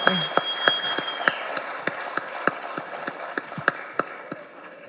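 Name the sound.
audience applause at film pre-release event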